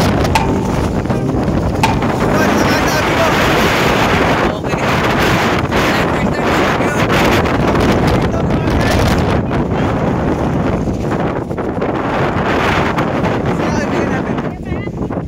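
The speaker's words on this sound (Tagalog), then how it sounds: "binibira yung cellphone ko dito, napakalakas na hangin" Loud, constant wind roars and buffets against a phone microphone near a mountain peak during a typhoon on Mt. Sembrano, a rough rumbling rush that barely lets up throughout.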